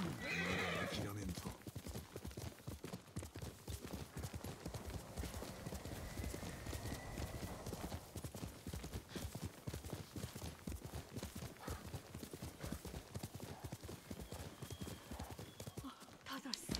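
In a video game, a horse's hooves clip-clop steadily at a gallop over continuous ambient game sound, with a whinny near the start.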